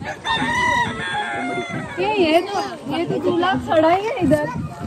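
A rooster crows once at the start, loud and close, then people begin talking over a busy background.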